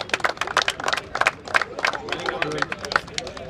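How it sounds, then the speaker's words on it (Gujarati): Applause and crowd noise at a cricket tournament prize ceremony in Junagadh, with scattered clapping and loud sharp claps rising over a steady murmur of voices. "તાળીઓથી વધાવી લઈએ."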